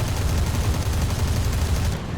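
Rapid, sustained cannon fire from the 23mm center gun of a Yak-9P fighter in War Thunder, a dense continuous stream of heavy thuds that stays loud and steady before cutting off near the end.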